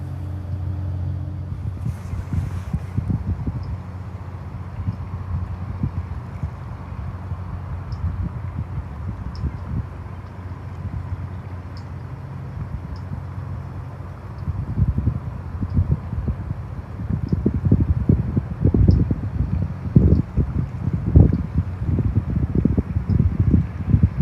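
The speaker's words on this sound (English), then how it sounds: "It's getting a bit windy now, it's a bit chilly." Wind gusts by a river shore during sea fishing at Gorleston, rumbling low and buffeting the microphone, growing stronger and choppier toward the end, with a faint steady hum underneath.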